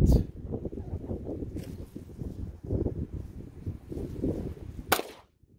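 A single sharp report from a Rock Island Ultra FS 10mm pistol firing a 200-grain controlled-expansion round, cracking out loudly near the end after several seconds of gusty outdoor wind noise.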